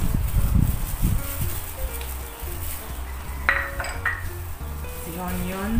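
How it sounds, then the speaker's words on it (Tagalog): Pork siomai filling with carrots, onions, soy sauce and oyster sauce being mixed in a bowl, with scraping, stirring and light clinks of utensil against dish over steady background noise. "So we are now going to mix all the ingredients."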